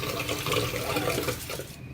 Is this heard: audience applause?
no